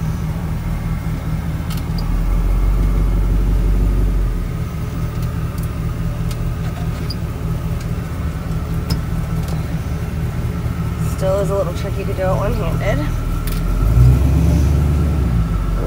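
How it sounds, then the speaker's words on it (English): A 1936 Ford Deluxe car with an automatic transmission is being driven, and its engine gives a steady low rumble throughout. Someone speaks briefly over the engine partway through. "Let me turn this air off so you can really hear the sound of the engine, which sounds amazing."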